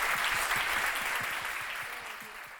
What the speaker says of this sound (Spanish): Un aplauso para ellas, por favor.